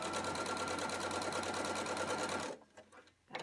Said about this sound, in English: time to sew half an inch all the way around